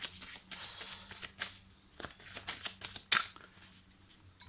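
Petit Lenormand cards being gathered up from a table after a three-card reading, with soft papery slides and taps in quick irregular bursts, close and fairly quiet, no talking.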